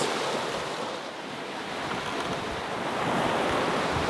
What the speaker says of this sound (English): I don't know if the camera picks up on it, but the waves have shifted.